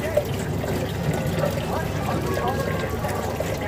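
Potatoes are washed under running water to rinse off soil before being made into mashed potatoes. The water gives a steady, close rushing splash that keeps going throughout.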